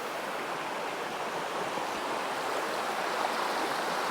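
A river flows in a steady broadband rush, continuous and fairly close, with no talking.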